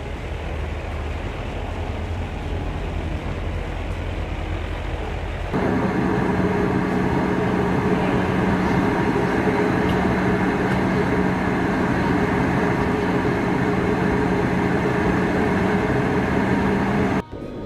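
A simulated Crossair flight 498 airliner begins its takeoff roll at night: a steady, loud engine roar and rumble that rises in intensity a few seconds in and then holds until it cuts off abruptly.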